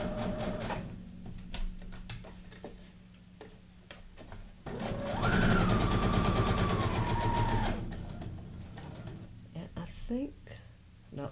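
A domestic sewing machine running a straight stitch through paper scraps for junk journaling, with a steady mechanical whirring burst lasting a few seconds among scattered clicks and handling noises, and a person talking at times.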